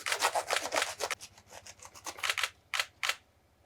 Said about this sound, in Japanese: これでやっぱり長い枝、いらない枝全部切っていくわけです。